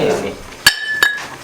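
Two sharp glassy clinks with ringing tails as glass shards are thrown, the second following shortly after the first, over a murmur of voices in the background, in an empty house.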